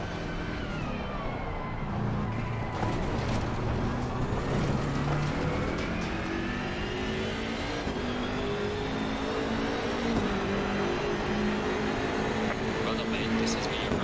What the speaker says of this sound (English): I feel though the turbo kicks in pretty late there on the BMW